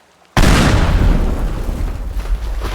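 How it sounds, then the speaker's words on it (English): A massive, sudden boom of many C4 charges detonating at once in the physics sandbox game Teardown, bringing down a tower, then a long, loud rumbling roar of collapse that slowly fades. "Active charges of C4, 29. Press K to detonate."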